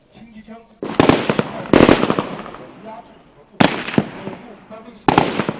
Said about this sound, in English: Then that is light machine gun burst firing.